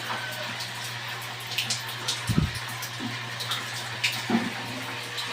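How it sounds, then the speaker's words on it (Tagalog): A bathroom faucet gushes with strong water pressure, a steady, fairly loud rush of water that runs throughout with a few brief splashy bursts. "Itatry po natin tong ating faucet dito sa ating CR."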